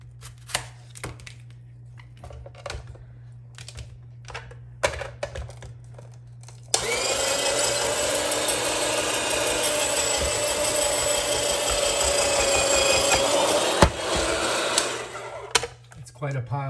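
A Presto Salad Shooter electric slicer whirs loudly and steadily for about seven seconds while cutting peppers, following quieter clicks and handling noises, then stops abruptly and quiet handling resumes.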